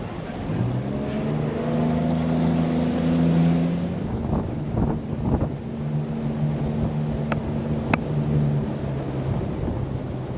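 A tour boat's motor drones steadily on Casco Bay, a loud continuous low hum mixed with wind and water rush, with the engine note shifting slightly as the boat turns.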